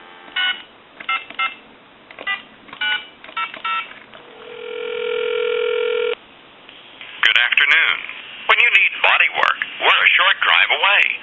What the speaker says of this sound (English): Give you some dial tone. We'll call it time and temp.